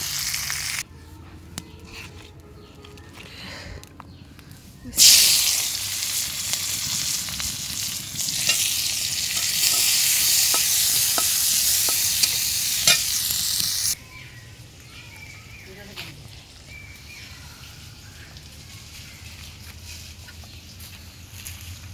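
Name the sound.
fish lightly frying in a pan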